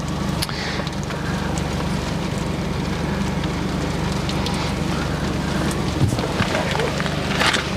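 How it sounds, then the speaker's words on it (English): Steady rain falls with gusting wind during a storm chase under a supercell on the Texas South Plains, making a constant broadband rush with no clear voices. "I know it's raining."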